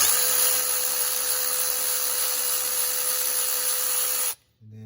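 A cordless lithium-ion battery ratchet whirs continuously at high speed, loud and close, working on a GMC Canyon water pump, then cuts off abruptly near the end, leaving a brief quiet tail.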